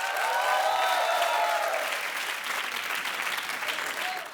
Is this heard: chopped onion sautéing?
no